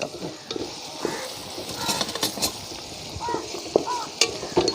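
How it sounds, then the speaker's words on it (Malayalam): Small onions frying in a pan for a fish head curry, sizzling continuously while a spoon stirs and scrapes, with frequent clinks against the metal, close and lively. "അത് നല്ലപോലെ അങ്ങോട്ട് മൂത്ത് പൊരിച്ചെടുത്താൽ മതി"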